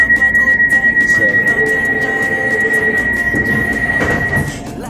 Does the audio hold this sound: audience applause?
no